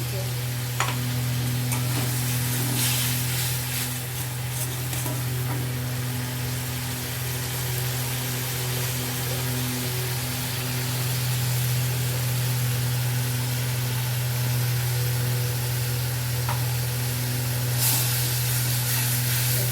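Vegetarian chili paneer, made without onion or garlic, sizzles steadily in a pan as it is stirred with a splash of soy sauce. A continuous, even frying hiss runs throughout, with no one talking.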